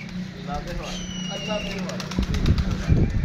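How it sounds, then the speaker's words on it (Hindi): Pigeon wings flap in a quick burst amid outdoor background noise at a pigeon-flying tournament, with faint bird calls and a voice speaking nearby. "ले जी पहला कबूतर दोस्तों"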